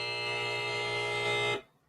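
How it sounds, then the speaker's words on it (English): A panel show's time buzzer sounds as one loud, continuous electronic buzz lasting about one and a half seconds, then cuts off abruptly into near silence. "Can we get that buzzer sound real quick so people can recognize what it sounds like?"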